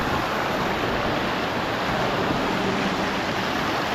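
A waterfall inside a cave gives off a steady, dense roar of rushing water, loud and unbroken throughout with no voices.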